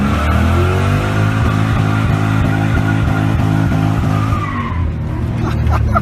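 A car fitted with an off-road H-pipe exhaust and Violator mufflers drives fast, its engine roaring loud and close with a rising, shifting drone and tire squeal, then easing off near the end.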